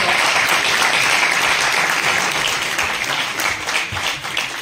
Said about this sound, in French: envers le professeur Fadou Drissi, que je vous demande d'applaudir très très fort.